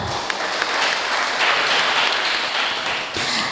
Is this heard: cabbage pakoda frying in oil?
no